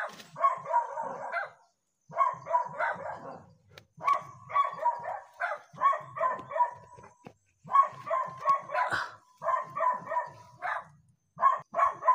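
Dogs barking at a quiet property, repeated bursts of sharp barks in clusters separated by short pauses, fairly close and loud, continuing throughout.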